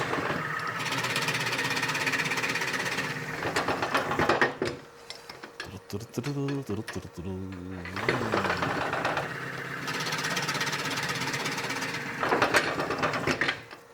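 A power drill whirs loudly in sustained bursts, boring deep into a piece of wood for a natural edge hollow form, pausing in the middle where a lower, stuttering mechanical grind and clicks take over before the drilling resumes.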